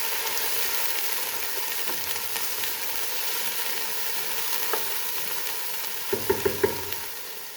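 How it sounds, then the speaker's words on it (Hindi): Onions fried to light golden with ginger-garlic paste in a pan, giving a steady soft sizzle with a few light stirring clicks near the end, no talking. "और ज़रा इसको अच्छे से भूनेंगे।"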